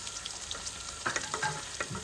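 Paneer pieces fry in oil while being prepared for paneer tikka, giving a quiet, even sizzle with scattered small pops and light utensil clicks toward the end.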